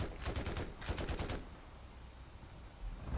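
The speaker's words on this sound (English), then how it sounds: "spacebar is this machine guns" Rapid machine gun fire in the War Thunder video game, a fast rattling burst of evenly spaced shots that lasts about a second and a half and then stops, leaving low engine rumble and game ambience behind.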